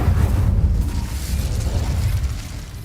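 A fire spell cast in the video game Hogwarts Legacy: a loud, sustained roaring whoosh of flame with a deep rumbling body, steady throughout the short burst, no voices over it.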